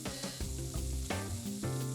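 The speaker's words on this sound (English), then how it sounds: "cook bacon over a medium heat to render the fat" Bacon with onions and garlic sizzles steadily in a heavy pot or Dutch oven over medium heat, a close, continuous frying hiss with a few stirring knocks and no talk.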